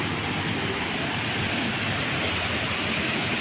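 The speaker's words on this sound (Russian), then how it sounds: "А мы идем к водопаду." Waterfall in New Athos fed by mountain streams, a dense, steady roar of rushing water heard up close with no break and no voices.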